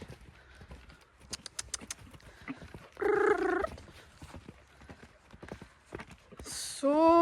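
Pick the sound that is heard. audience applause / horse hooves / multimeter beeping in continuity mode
horse hooves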